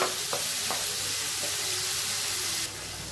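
Onions sautéing in hot oil for an egg curry, a continuous close sizzle with a few stirring scrapes, steady and alone, brightening near the end.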